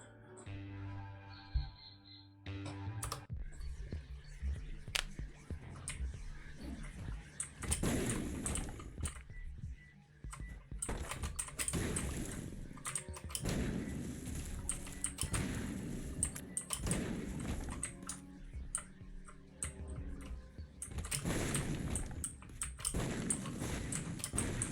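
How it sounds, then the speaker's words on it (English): Computer keyboard keys clicked repeatedly while playing The Binding of Isaac Repentance+, with spacebar presses and other taps in an uneven run of sharp clacks close by, alongside game sound. "Just pressing the spacebar for free"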